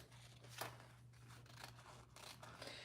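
Scissors trim fabric for a sewing project, a series of quiet, close snips and crisp cuts repeating irregularly over a faint steady hum.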